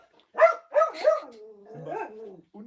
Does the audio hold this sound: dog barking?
yes